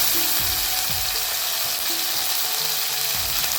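Ginger, garlic and onion paste frying in a pan with a steady sizzle throughout, broken by several soft scraping stirs and low tonal creaks; no one speaks.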